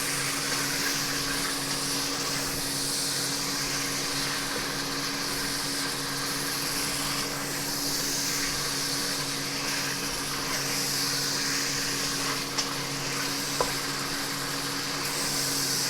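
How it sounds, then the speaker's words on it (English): Pork frying and being stirred in a pan for adobo, a steady close sizzle running the whole time with faint scrapes from stirring and no talk. "Give it a stir around. Just want to fry it lightly till it starts getting a little bit of colour."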